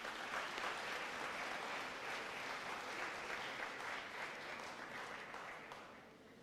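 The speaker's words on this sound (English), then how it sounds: "Please give them a round of applause." Finalists at a debt review awards ceremony are applauded by the audience, a broad wash of steady clapping heard from a distance that fades slightly toward the end.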